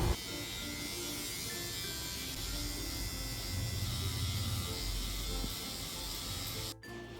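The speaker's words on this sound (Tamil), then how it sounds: "ஆலிக்கு நல்ல முடியை கட் பண்ணதுக்கப்புறமா கோடு போட்டே அவன் கோடு போடாமல் நான் வரமாட்டேன்னு சொல்லிட்டான் அதான் கோடு போட்டுட்ருக்குறாங்க" An electric hair clipper buzzes steadily while shaving lines into a child's hair, a close continuous hum that holds for several seconds before cutting off briefly near the end.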